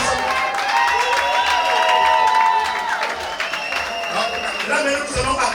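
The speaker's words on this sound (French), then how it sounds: "nous allons donner les acclamations de l'université de Kinshasa" An audience at a University of Kinshasa thesis ceremony cheers and applauds, with loud, sustained clapping and shouting layered with whoops and whistles that fill the whole stretch.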